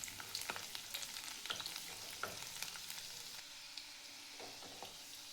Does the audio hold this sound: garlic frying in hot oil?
yes